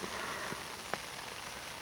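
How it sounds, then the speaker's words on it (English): Steady rain falls at a carp fishing lake at first light, a soft continuous patter with a couple of brief louder drops, heard alone without talk. "As you can hear, it's raining"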